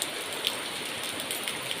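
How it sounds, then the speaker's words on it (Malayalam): Steady heavy evening rain patters down continuously, with scattered individual drops tapping on a nearby surface. "നല്ല മഴയാണ് ഇപ്പോൾ വൈകുന്നേരമായിട്ട്"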